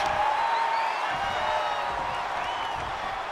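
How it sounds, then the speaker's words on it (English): A wrestling event crowd roars loudly and steadily, a dense wall of cheering and shouting with scattered whoops rising above it, sustained throughout. "The sound of this crowd is deafening, and he's asking for more."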